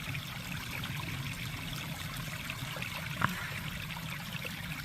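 Small trail water source trickling and dribbling on a cold, icy hillside morning, a steady close gurgle with one brief sharp knock partway through.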